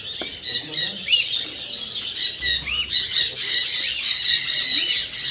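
Parrots at a bird park in Yelagiri squawk and screech continuously in shrill overlapping calls, fairly close and loud, with no clear talk.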